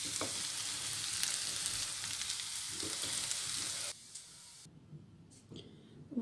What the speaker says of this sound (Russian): Поджариваем одну луковицу.